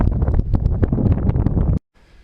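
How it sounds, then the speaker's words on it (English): Heavy wind buffets the microphone in a loud, rumbling roar that cuts off abruptly, leaving faint background hiss. "I had to get out of the wind. It's pretty windy."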